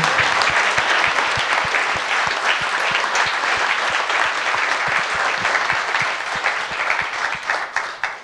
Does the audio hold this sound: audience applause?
yes